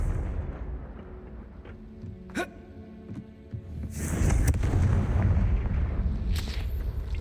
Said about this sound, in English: Confringo.